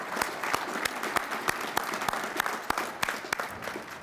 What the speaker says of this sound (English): Come on, guys, applaud for them.